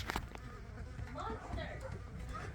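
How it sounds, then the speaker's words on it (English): Bees buzz around a boat anchored at Isla San Marcos in Baja, a dense insect hum with close passes, set over low wind and water rumble. "The bees have found us."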